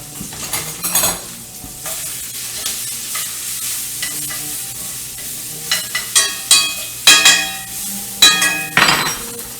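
Onions and sliced fresh garlic fry in a pan under a quiet sizzle while a utensil stirs them, giving repeated clinks and scrapes against the pan that grow busier toward the end.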